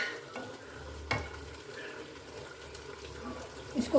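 Fried onions for chicken karahi heating in a pan, a low steady sizzle with a few stirring scrapes and clinks.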